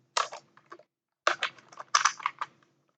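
Bursts of quick keystrokes on a computer keyboard while code is typed, close and clear, in three short clusters with a pause between the first and second.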